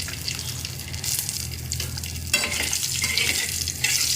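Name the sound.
bay leaves and green chilies frying in hot oil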